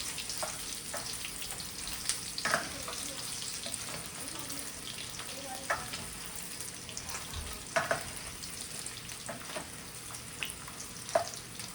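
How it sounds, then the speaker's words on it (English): Meatballs fry in a pan with a soft, steady sizzle, occasional louder pops and crackles breaking through the quiet, low background hiss. "we're gonna fry it up a little more"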